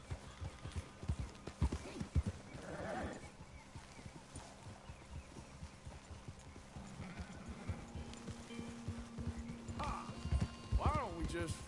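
Horse hooves clip-clopping in a steady rhythm with a brief whinny near the end, from Red Dead Redemption 2 while the rider tends the horse, with game dialogue and music around it.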